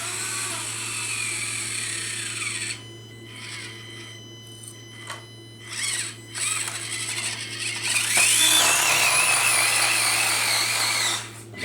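An Axial SCX24 RC crawler, its body rubbing hard, drives with a high electric motor whine. The whine stops and restarts in short bursts, then surges louder in a strained run before cutting off.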